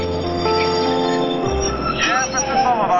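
A subway train rumbles along with high metallic wheel squeals and ringing tones, while voices talk over the running noise.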